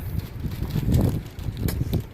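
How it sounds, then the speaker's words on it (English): Wind gusts buffet the microphone with low, uneven rumbling that rises and falls in bursts. "it's a bit windy out here"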